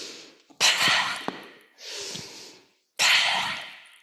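Three forceful, breathy exhalations come from an open mouth with the tongue out, like coughing. Each is a loud, rough burst lasting about a second, with short pauses between them.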